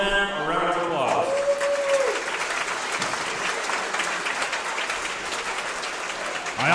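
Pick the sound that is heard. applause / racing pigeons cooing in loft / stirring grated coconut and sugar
applause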